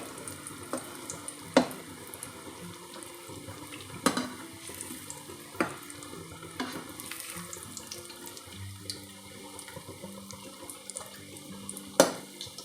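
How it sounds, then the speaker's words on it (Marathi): Potato tikki patties shallow fry over medium heat in a wide, flat pan, giving a soft, quiet sizzle broken by several sharp pops and spatters, no voices. "आलू टिक्की आहे ही मध्यम आचेवरती अशी तळायचे"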